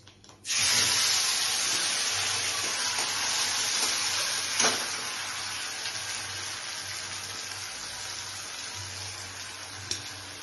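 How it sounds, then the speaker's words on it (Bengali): Tomato and ginger paste hitting a hot pan for a dhaba-style paneer curry: a sudden loud hiss erupts and settles into a dense, steady sizzle, with occasional stirring clicks, close and unbroken. "টমেটো আদা পেস্ট দিয়ে দিলাম।"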